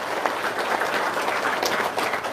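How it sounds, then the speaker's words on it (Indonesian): An audience breaks into applause, a dense, steady wash of many hands clapping at once that carries on evenly throughout, with no voices standing out. "Tepuk tangan dong."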